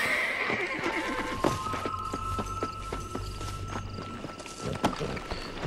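A horse neighs and whinnies in Red Dead Redemption while hooves clip-clop steadily over a busy game soundscape, with the neigh rising clearly above the rumble of movement.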